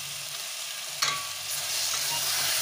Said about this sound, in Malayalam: ഇതുപോലെ നന്നായി മസാല എല്ലാം ചിക്കനിൽ പിടിക്കുന്നത് വരെ നമുക്ക് നന്നായി ഇളക്കി കൊടുക്കാം